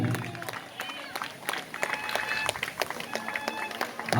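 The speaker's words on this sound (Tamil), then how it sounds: "ஓ எல்லாம் கைதட்டுங்கப்பா" Scattered, uneven hand clapping from an audience at the final round of a slow bicycle race, irregular claps rising and falling under someone speaking.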